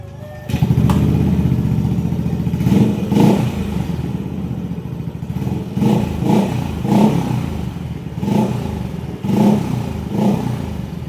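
A Yamaha Aerox scooter engine running during a test after repair work, idling near and loud with a few short throttle blips, and brief speech in the background.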